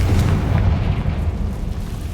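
A Confringo spell explodes in Hogwarts Legacy with a loud, deep boom that rolls into a rumbling blast lasting a couple of seconds, heavy in the low end.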